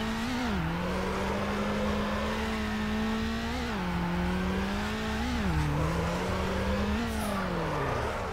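A car drifting in Need For Speed Underground, its engine holding a loud, steady high-revving drone that dips and climbs through repeated gear changes and slides, continuous and close for the whole stretch with no one talking.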